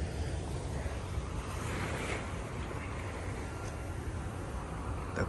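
Surf rolls onto a beach on Maui while wind buffets the microphone, a constant, dense wash of noise with no clear breaks between waves.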